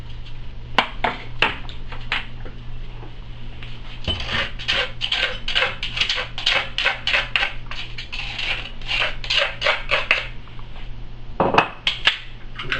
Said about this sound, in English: we're going to grind a little bit of this cumin, some salt and pepper